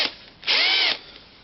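A powerful power drill fitted with a wire brush wheel spins up in one short, loud burst of about half a second between quieter stretches, used for cleaning ride-on mower blades.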